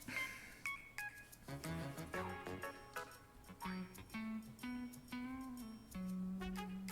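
A mobile phone plays a run of bright electronic tones and melodic beeps in a kitchen during marzipan rose making, a steady sequence of short pitched notes lasting several seconds with no talking over it.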